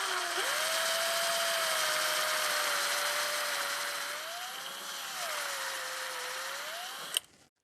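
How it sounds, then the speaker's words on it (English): A drill whines steadily for several seconds boring into wood, its pitch dipping and rising slightly under load, then stops with a brief click. "Now when I go to drill, I'm just going to watch the drill bit"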